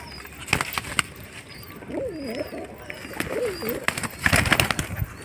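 Pigeons coo in two wavering, rolling phrases close by, with scattered clicks, wing flutters and background noise around them.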